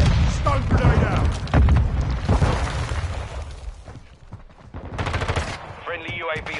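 Gunfire and a stun grenade blast in a PS4 military shooter video game: a run of loud, sharp shots and bangs, with a quieter stretch and a final burst near the end. Game voices call out over the action.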